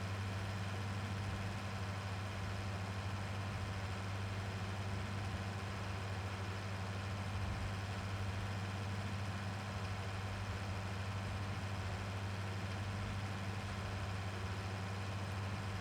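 A tractor engine idling in a roleplay video game, a steady low droning hum with constant pitch and loudness throughout, no voices.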